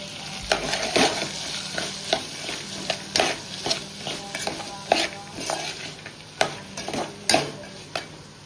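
Dry coconut paste being stirred and fried in a pan for a chana curry, with a steady sizzle under repeated scraping strokes of a spoon against the pan, close and clear, with no talk.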